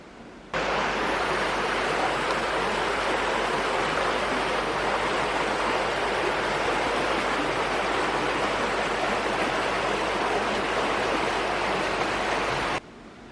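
A creek flows right beside a studio, producing a steady, full rushing hiss of running water that fades in and holds evenly throughout before cutting off.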